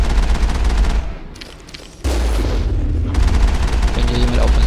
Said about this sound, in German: Da gibt's Leute, die schießen auf uns.